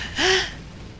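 A female character in Zelda: Ocarina of Time lets out a single short, sharp gasp with a rising pitch, clear and close.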